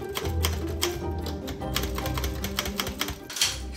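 Rapid clacking of a manual typewriter keys, steady irregular strikes with a carriage sound near the end, close and loud in a noisy workspace where an artist builds pictures from letters and punctuation marks.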